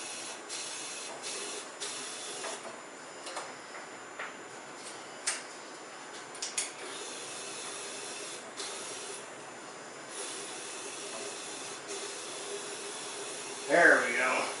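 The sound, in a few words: powder coating gun spraying powder in a home-made booth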